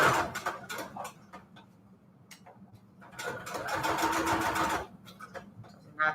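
A sewing machine runs a straight stitch through fabric onto a manila tag in short bursts, a rapid close whirring chatter that starts, pauses and restarts, with quiet handling clicks in the gaps.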